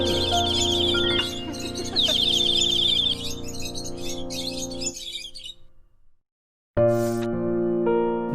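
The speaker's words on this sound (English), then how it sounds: "I hear the birds sing in the breeze." Bright birdsong of chirps and tweets rings out over a musical backing for a springtime scene, fading briefly to silence before the song returns.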